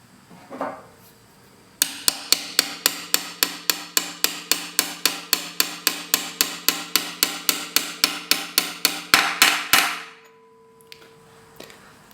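Shifter bushings on a BMW ZF320 manual transmission (328i/M3) are driven in with a hammer: a quick, even run of about thirty sharp metallic taps, loud and close. A faint knock comes just before, and a brief hum follows.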